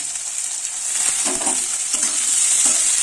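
Cumin, garlic, ginger and chopped onion fry in a pan with a strong, continuous sizzle, and stirring scrapes come through clearly with no voices.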